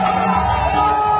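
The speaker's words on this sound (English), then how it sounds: "The crowd was celebrating the expulsion of the French ambassador." Crowd at an anti-France protest in Mali cheering and shouting, a dense continuous roar of many voices, loud and close, with whoops rising over the mass of noise.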